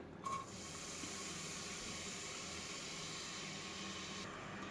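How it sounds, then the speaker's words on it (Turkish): Onions sizzle steadily in hot oil in a pot for a vegetable pea dish, a constant frying hiss starting with a brief clatter and continuing evenly throughout. "bir güzel soğanımızı kavuralım"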